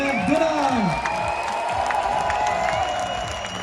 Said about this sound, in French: Un tonnerre d'applaudissements pour le Girondin Pierre Delage.